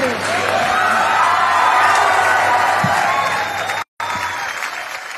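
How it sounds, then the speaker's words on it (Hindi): A dance audition audience claps and cheers loudly and steadily, whoops rising above a dense wash of applause for about four seconds, then a brief cutout before the clapping resumes. "बहुत ताली बजा रहे"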